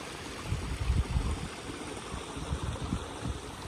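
A river flows beside a hiking trail on the Cape Wrath Trail in the Scottish Highlands, giving a steady, close rushing and gurgling of water with low churning surges and no voices.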